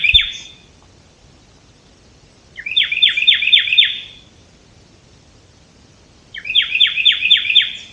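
A bird sings a bright, repeated chirping phrase three times with pauses between, close and clear against a quiet background, at a hammock campsite in Bankhead National Forest.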